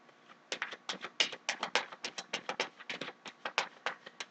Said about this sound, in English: Okay, one last shuffle.